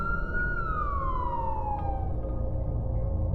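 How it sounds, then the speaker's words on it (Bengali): A police car siren in a movie scene wails with one long, loud, falling tone that glides steadily downward over a rumbling background. "ঠিক তারপরেই পুলিশের গাড়ি এলো।"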